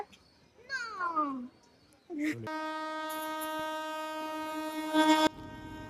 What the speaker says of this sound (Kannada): ನಮ್ಮ ಟ್ರೈನ್ ಬಂದೇ ಬಿಡ್ತು